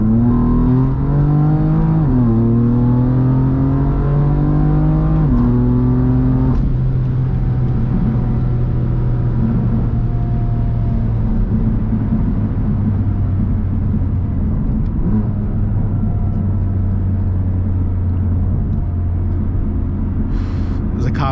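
A 2018 F80 BMW M3 Competition with a DCT gearbox accelerates hard from inside the cabin, its loud, steady engine drone rising in pitch and dropping at each quick gear shift.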